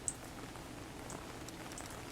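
Light rain patters in a video game, a faint, steady hiss with scattered soft drops and a small sharp tap near the start, no voices present.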